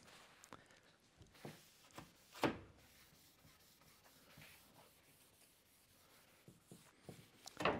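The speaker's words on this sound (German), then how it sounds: "nehme den Überschuss hier weg." Paper towel wiping away excess glue from a Festool FS-SP splinter guard on a guide rail, heard as soft quiet rubbing and scuffing strokes with a few sharper swipes, close by and alone.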